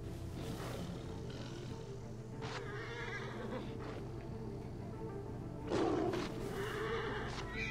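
A horse whinnies over a steady Assassin's Creed: Origins game soundscape, with a brighter call rising near the end against constant low background rumble.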